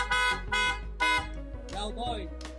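Aftermarket loud horn on a Yamaha NMAX scooter sounding in three short blasts, then a longer warbling, multi-tone honk, loud and close.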